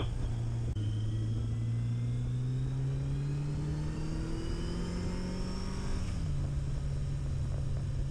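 A Kawasaki ZG1200 Voyager XII motorcycle engine drones steadily nearby while riding, its pitch rising gradually through a gear before dropping with a shift, then holding an even hum.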